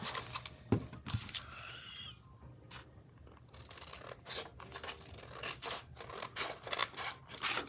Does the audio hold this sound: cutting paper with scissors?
yes